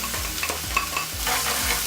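Chopped onions sizzle in hot oil previously used for frying fish, with steady close frying hiss and repeated scraping strokes as they are stirred in the pan.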